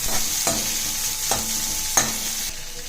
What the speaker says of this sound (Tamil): இந்த குடமிளகாவும் நீட்டாக கட் பண்ணி இதில் ஆட் பண்ணி இந்த நெய்லேயே நல்லா வறுத்துருங்க